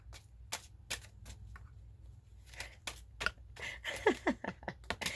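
Deck of long tarot cards being shuffled by hand, a faint close run of quick papery riffles and soft taps, irregular at first and then busier toward the end.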